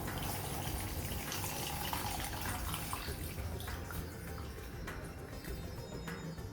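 Water pouring steadily into a pot, a continuous close splashing rush with no talking.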